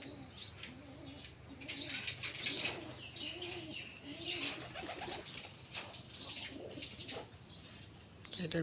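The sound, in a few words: pigeon cooing and flapping wings on rooftop loft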